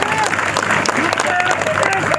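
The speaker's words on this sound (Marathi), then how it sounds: "ज्याने टाळ्या वाजवल्या" A crowd at a Parli constituency political rally claps in a short, steady burst, with a speaker's voice mixed into the applause.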